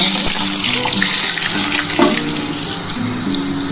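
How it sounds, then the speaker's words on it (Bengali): Chunks of elephant foot yam and potato land in hot oil tempered with whole cumin and a torn bay leaf, making a loud, continuous, rushing sizzle that fills the clip with no voices. "এবার আমি ওল আর আলুটাকে একসাথে দিয়ে দিচ্ছি।"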